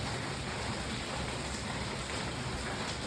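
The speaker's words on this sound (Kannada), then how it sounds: "ಇವತ್ತು ಫುಲ್ ಮಳೆ ಬರ್ತಾ ಇದೆ" Heavy rain pours steadily in Trivandrum, Kerala, a dense, even hiss of downpour that holds at the same level throughout, with no voices over it.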